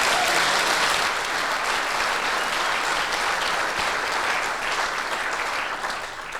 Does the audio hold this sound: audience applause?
yes